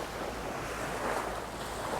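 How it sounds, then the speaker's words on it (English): Sea waves lap at the shore of Coney Island, Singapore, slightly stronger as a boat passes, a steady wash with some wind across the microphone, no voices. "the waves are lapping a little bit stronger now than they were"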